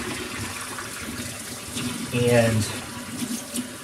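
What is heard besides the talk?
tap water running through a raw chicken cavity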